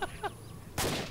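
A grenade detonates in ARMA 2 with a single abrupt, loud broadband blast that follows two short chirpy tones, the explosion sustaining briefly as a rumbling burst.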